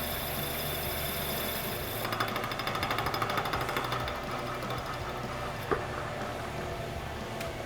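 A lathe tool taps against a hanging casting during an interrupted cut on an Aermacchi front hub, a rapid, regular ticking riding over the steady machine hum, strongest in the middle, with a single sharper knock later.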